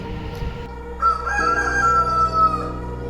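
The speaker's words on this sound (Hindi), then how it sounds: "दूर पूर्व दिशा में मुर्गे की पहली बांग सुनाई दी" A rooster gives a single long crow at dawn as a story sound effect, loud and close, rising over a low sustained background drone.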